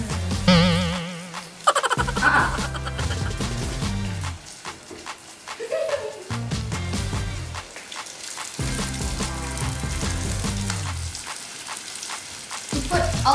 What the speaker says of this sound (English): So here I have the pan and I'm going to start frying.